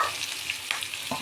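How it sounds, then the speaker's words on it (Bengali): Onions fry in a pan, a loud close sizzle with quick stirring scrapes over a brief moment. "পেঁয়াজ দিয়ে 2 মিনিট মতো ভেজে নিয়েছি, একটু ভাজা ভাজা হয়ে আসছে"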